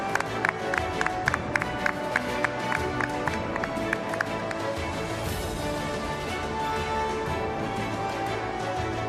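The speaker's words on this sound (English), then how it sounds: "huge round of applause for Mr. Rakesh Chaurasia" An audience at a global summit award ceremony applauds a winner, steady dense clapping filling the room with some sharp individual claps standing out early, continuing throughout without speech.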